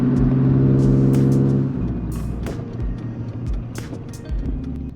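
A Honda CRX Si with recent spark plug work revs and pulls away, the engine's droning tone strong at first, then settling into a lower rumble with clicks and knocks from the car as it moves.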